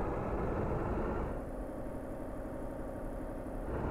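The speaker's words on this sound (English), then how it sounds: "Listen, listen, this rattling" Renault Truck T engine in Euro Truck Simulator 2, a steady mid-low rumbling drone with a rattly texture, easing slightly as revs drop, no talk.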